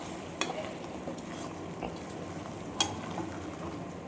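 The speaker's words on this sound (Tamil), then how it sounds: "இப்போ வந்து இதை நல்லா கிளறி இறக்கிடலாம்." Madurai mutton chukka gravy being stirred in a pan, a steady soft sizzle and scrape with two brief spoon clinks against the pan, close and continuous.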